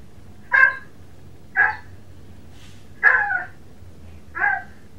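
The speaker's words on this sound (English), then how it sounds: "Is that a doggy? Where's the doggy?" A dog barks four times in separate, evenly spaced single barks, fairly close and clear, with a quiet room hum between them and no talking.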